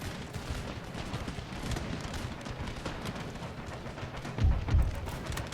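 Musket gunfire in an Empire: Total War battle, a rapid crackle of many overlapping shots rolling on steadily at mid distance, with a heavier pair of thumps near the end.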